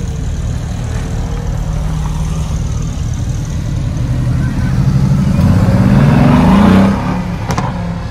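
A GTS supercar engine at a Gumball rally event in Haut-Doubs, France, runs with a steady throaty rumble, then revs up and climbs in pitch toward a loud peak before easing off near the end.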